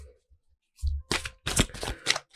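Playing cards are shuffled in several quick riffling bursts, close and crisp, with a soft thump before them.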